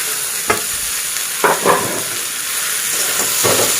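Banana flower, potatoes and pre-fried prawns are stirred in a sizzling pan, with a steady hiss and several distinct scraping strokes of the spatula spaced through the clip, no talking.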